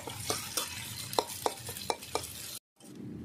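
Chopped onions frying in a pan for a Bengali moringa drumstick and bean curry, with a steady sizzle and regular scraping spoon strokes, close and alone, then a brief silent gap.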